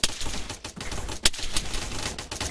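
Gunfire in a team-based shooter game: a fast, crackling run of shots with a sharp, louder burst near the middle, heard alone without talk.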